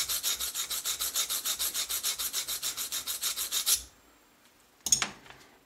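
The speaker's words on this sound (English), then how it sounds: "wipes with the stone. And both cutting edges, of course." A sharpening stone hones the cutting edges of an 8mm drill bit in a toolmaker's workshop, about two dozen quick, even rasping strokes up close, then a pause and one short scrape.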